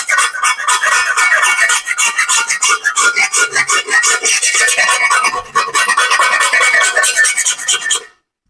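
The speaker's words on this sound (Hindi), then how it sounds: "आप इसको इस तरीके से खुरच लें।" A knife scraping burnt residue off a karahi, a continuous loud rasping scrape with steady strokes running almost without pause, then stopping abruptly near the end.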